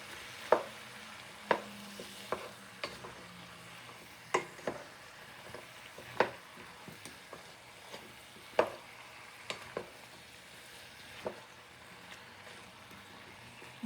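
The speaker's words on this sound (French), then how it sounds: "On ajoute aussi la pâte de tomate et on va remuer bien comme il le faut" Chicken, vegetables and tomato paste are stirred in a pot for a soup, with sharp spoon knocks against the pot at roughly one-second intervals over a faint, steady sizzle.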